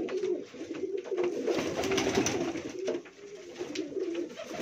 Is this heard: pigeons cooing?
yes